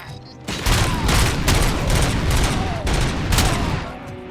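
Dense, sustained gunfire in the RoboCop: Rogue City video game, with rapid shots and bursts overlapping into a near-continuous loud fusillade across the whole stretch.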